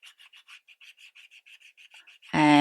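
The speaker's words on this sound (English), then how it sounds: "I've just got a plain unscented baby wipe and I just rub it." Rapid rhythmic rubbing of an unscented baby wipe across a designer shoe, about fifteen short scrubbing strokes in quick even succession, close and fairly soft, ending with a sudden louder burst of noise.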